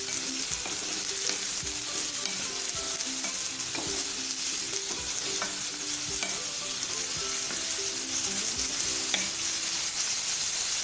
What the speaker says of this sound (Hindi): इसको हम कम से कम 2 मिनट के लिए हम इनको भून देंगे प्याज के साथ।